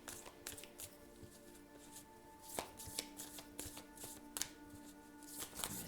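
Tarot cards being shuffled by hand, a quiet run of soft papery riffles and taps with a few sharper slaps, steady and close, no talking.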